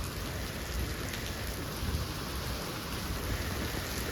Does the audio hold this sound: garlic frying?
no